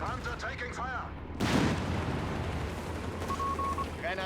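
Sherman tank cannon fire in the Company of Heroes 3 strategy game: one sudden loud blast partway through, trailing into a rumbling decay amid battle noise.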